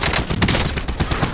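Rapid burst of gunfire in the Call of Duty Modern Warfare video game, several quick loud shots packed into about a second, with no talk over them.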